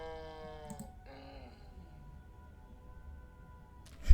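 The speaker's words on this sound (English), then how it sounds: "I hate the mooing sound." A cow lowing in the video game Scarlet Hollow, one drawn-out moaning moo that bends in pitch and trails into a long steady tone before a sharp thump at the very end.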